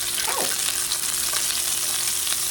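Onions hit a hot pan with a loud, dense sizzle that holds steady and close for a couple of seconds, with a faint scrape partway through.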